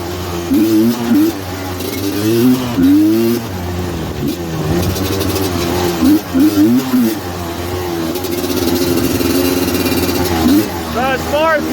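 Suzuki LT250R quad engine held wide open in sixth gear on a straightaway, a loud buzzing two-stroke-like whine rising and wavering with wind and rough terrain, running continuously from near.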